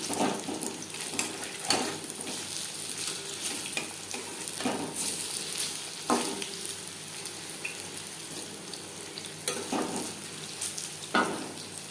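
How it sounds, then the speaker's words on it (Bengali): Jute leaf pakoras frying in hot oil, a steady close sizzle with occasional louder bursts and scraping as the fritters are turned, with no talk. "দু তিনবার উল্টে পাল্টে ক্রিস্পি করে ভেজে নেব"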